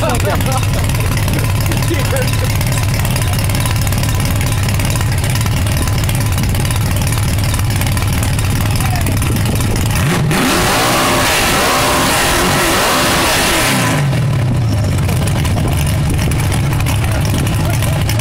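Loud car exhaust at an outdoor loudest-exhaust competition in Carlisle, a steady roaring engine drone that swells into a heavy, throaty revving burst midway before settling back, with crowd voices underneath.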